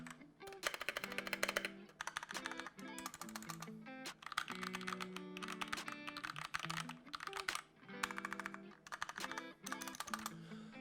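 Rapid bursts of crisp clicks from the arrow keys of a Royal Kludge RK71 70% mechanical keyboard, tapped right up against the mic in clustered runs with short pauses, no voices.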